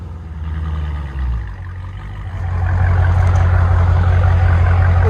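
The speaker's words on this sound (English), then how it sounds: "There's the idle on it." A 2018 Dodge Challenger Shaker Edition with a 6.4L HEMI V8 and dual exhaust with mid muffler idles nearby. The deep, loud rumble dips briefly, then settles into a steady, heavier burble.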